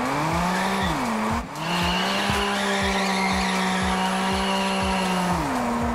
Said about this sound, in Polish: Ale jakieś tam ślizgi jesteś w stanie zrobić, no takie proste bączki.